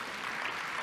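Brief applause from a conference audience at a morning session, an even wash of clapping from many people that lasts under a second.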